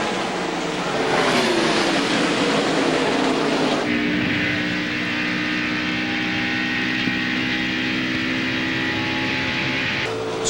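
NASCAR stock cars racing at the 2001 Winston at a speedway, engines roaring loud and steady with a sharp shift in pitch as cars pass, then a sustained multi-car drone.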